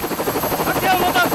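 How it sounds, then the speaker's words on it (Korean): Helicopter running steadily up close at a scenic flight site, with a pulsing rotor drone throughout, as passengers board for a summer sightseeing ride ahead of a skydive; a voice is heard faintly. "아버지와 함께 하늘로 오르기 위해 헬리콥터에 몸을 실었다"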